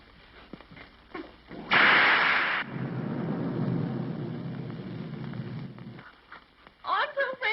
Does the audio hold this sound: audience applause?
no